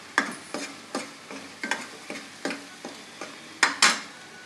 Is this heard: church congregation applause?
no